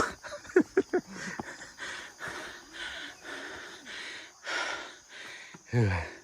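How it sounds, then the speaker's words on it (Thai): Heavy panting from someone hiking up the stairs to Phu Phek stupa on a Thai mountain: quick gasping breaths at first, then a steady run of long, labored exhales, close and alone. "ไม่มีคำบรรยายครับมีแต่เสียงหอบ"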